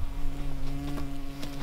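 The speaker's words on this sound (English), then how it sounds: "Osa. Osa. Máš ji na hlavě." A wasp buzzes close by with a steady droning hum over faint background noise, flying near someone's head in a workshop where a Tatra truck is being built.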